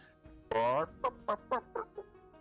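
A person's voice imitates a chicken, one long drawn-out squawk followed by five short, separate clucks at a steady rhythm. Nothing else is heard around it.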